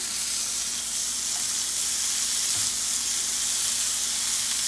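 Meat fries in a hot pan, turned until crisp, giving a steady, even sizzle that hisses throughout with no talk.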